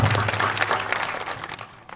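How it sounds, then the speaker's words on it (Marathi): An audience at a Jijau Jayanti lecture claps in a dense, crackling burst of applause lasting about two seconds over a low steady hum, thinning slightly at the end. "होऊन जाऊ दे एकदा टाळ्या त्यांच्याकरता"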